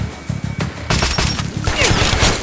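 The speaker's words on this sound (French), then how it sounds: "On encaisse des tirs!" Gunfire in the video game Metro Last Light: rapid, loud bursts of automatic weapon shots crackle over a dense, noisy combat background, with a strained voice partly audible.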